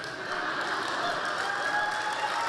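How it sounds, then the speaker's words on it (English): An audience in a Bay Area speech hall applauds a speaker taking the stage, a dense, steady wash of many hands clapping that holds at an even level for the whole stretch. "When I get that much applause before I speak"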